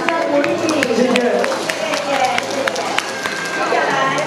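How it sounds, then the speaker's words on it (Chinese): A crowd claps at a Mother's Day award ceremony as certificates are handed out, scattered and uneven hand claps mixed with murmuring voices and crowd babble in a busy hall. "掌声鼓励"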